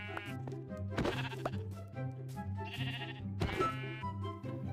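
Sheep in the Minecraft video game bleat several times in wavering, nasal cries, rather faint, spaced across a few seconds with no talk.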